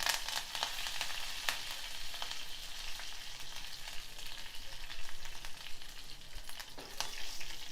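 Mustard seeds, cumin, a dried red chili, crushed garlic and curry leaves tempering in hot oil for a tamarind-leaf chutney, a quiet continuous sizzle with scattered sharp crackles and pops.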